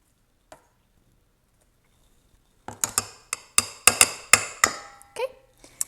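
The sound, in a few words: stirring tempura batter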